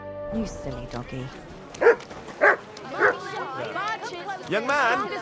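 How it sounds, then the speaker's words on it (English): A dog in the video game Kingdom Come: Deliverance 2 gives several short, close barks and yips, spaced about a second apart, with a person talking over and around them. "You silly doggy."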